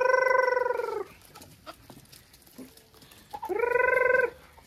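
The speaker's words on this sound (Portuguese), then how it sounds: "aí tem mais galinha" Farmyard chickens on a rural smallholding give out two long, harmonic crowing calls near the microphone, one at the start and another near the end, with quiet clucks and rustling between them.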